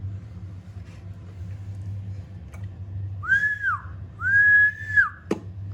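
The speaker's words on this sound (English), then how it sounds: "If you whistle" Two long, sliding whistle notes ring out over a low steady hum, ending with a sharp click, as a person whistles into the microphone of a Cobra 142 CB radio.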